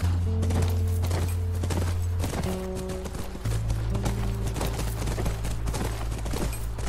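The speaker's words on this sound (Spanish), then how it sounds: "Es nuestro caballo, debe estar ahí." Horse hooves clip-clop steadily in The Last of Us on PS4, a quick regular beat carried over a loud sustained musical drone, with no talking.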